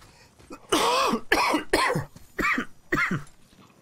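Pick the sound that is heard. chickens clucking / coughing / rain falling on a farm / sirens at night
coughing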